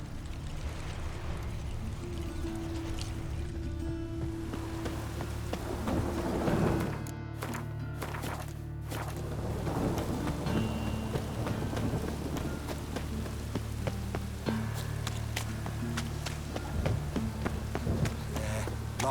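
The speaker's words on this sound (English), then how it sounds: "Be mad running around in this rain." Rain and rolling thunder in The Witcher 3 fill the scene with steady patter and deep low rumbles, a couple of sharper thunder cracks breaking through midway.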